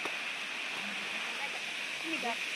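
Kailasakona waterfall in hilly country, a steady broadband rush of falling water heard from some distance, moderately faint and continuous, with brief voices talking over it.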